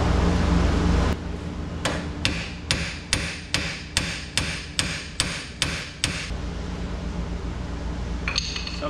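Steady metal hammering on a 1933 three-window coupe drop axle, about nine sharp ringing blows at an even pace, close by over a constant mechanical hum.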